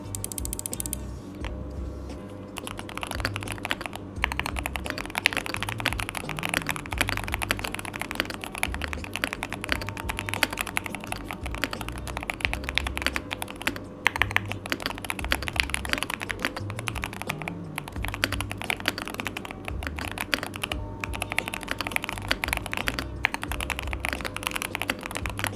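Typing sound test on a Keychron K2 HE Hall effect keyboard: a continuous, fast stream of close keystrokes with crisp clacks, occasional heavier thocks and brief pauses, with no voices.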